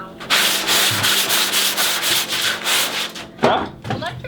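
An electric sander works steadily over the bodywork of a Datsun 240Z, a loud continuous rasping hiss with brief shifts in pressure near the end.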